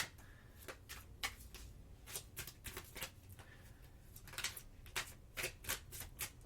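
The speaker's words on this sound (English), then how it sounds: "I'm going to start shuffling this other deck here." A deck of tarot cards being shuffled by hand, repeated soft riffling and slapping bursts in an uneven rhythm, close and moderately quiet with no talking.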